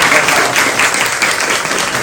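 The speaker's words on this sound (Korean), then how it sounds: "박수 한번 하겠습니다." Congregation applauding in a church, a dense, continuous wash of many hands clapping at close range for a couple of seconds.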